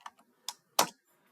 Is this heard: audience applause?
no